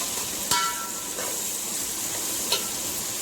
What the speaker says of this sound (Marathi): आता आपण कांदे चांगले फ्राय करत आहोत.